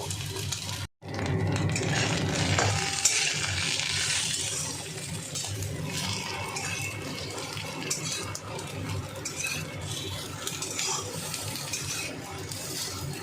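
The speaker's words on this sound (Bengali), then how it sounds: "বেগুনগুলো ভালোভাবে ভেজে নিচ্ছি আগে" Eggplant pieces frying in hot oil, a steady dense sizzle and crackle running throughout with no voices over it.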